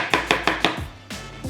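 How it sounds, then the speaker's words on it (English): A knife slices through an avocado on a cutting board in four quick, even strokes, then two softer cuts, each a crisp close tap with no talking. "let's slice it up"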